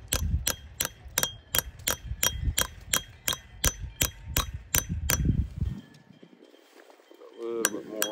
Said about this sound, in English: this is the part you're gonna hit with the hammer